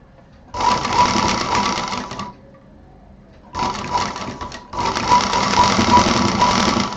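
A sewing machine stitches a fabric hot pot pad in three loud, steady bursts of rapid mechanical whirring, with a short pause after the first run and a brief break before the last.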